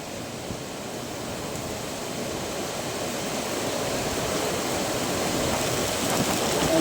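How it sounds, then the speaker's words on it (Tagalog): A sudden heavy downpour pours down in a dense, steady roar that swells slightly louder toward the end, with no voices. "Biglang buhos ang ulan guys."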